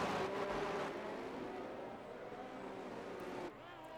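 Race cars in a racing video game, a continuous engine drone with a shifting, slowly falling pitch that eases off near the end, steady and fairly faint with no talking.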